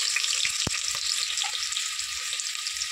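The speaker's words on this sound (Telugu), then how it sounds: "నూనె వేడైంది. నేను ఒక ఉల్లిగడ్డ వేసుకుంటానండి." Onion slices hit hot oil in a pressure cooker, giving a steady, loud, continuous sizzle with a few small pops and clinks.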